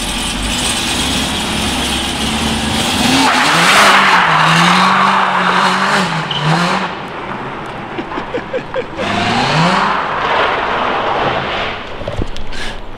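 Wheelspin from a V10-powered BMW M3, with the engine revving hard as the tires squeal in long wavering screeches. The squeal drops and returns, sitting close and loud over the engine's roar, with little talk.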